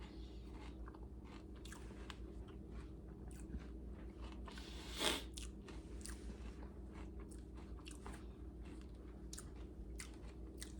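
Crunchy bites and chewing on a peanut butter rice crispy treat with a chocolate layer, steady close-up mastication over about eleven seconds with one sharper crunch midway.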